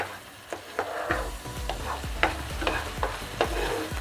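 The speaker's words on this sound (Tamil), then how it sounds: "இப்படியே மிக்ஸ் பண்ணிகிட்டே வரும்போது அது நல்லா திக்காகிடும்" A thickening milk mixture being stirred in a pan for a bread malai roll sweet, with repeated soft scrapes and thuds at a steady rhythm over a low sizzle, close and alone.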